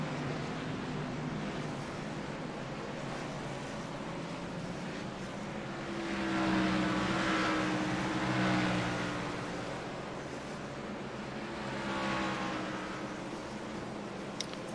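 Race cars lap a track in the iRacing video game, a continuous engine drone of many cars with passes rising and fading in volume every few seconds, no voices.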